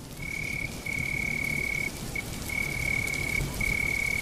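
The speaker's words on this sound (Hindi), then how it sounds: "बारिश अब और भी तेज हो चुकी थी।" Steady, dense rain hiss fills a cartoon scene at a ruin, with a continuous high cricket trill running over it almost throughout.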